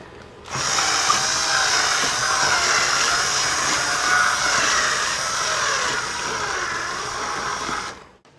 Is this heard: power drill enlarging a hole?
yes